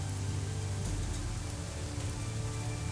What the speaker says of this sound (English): Good thing this rain's here.